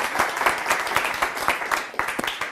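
Scattered clapping from a magic show audience, with distinct individual hand claps in an uneven rhythm over a few seconds, fairly close.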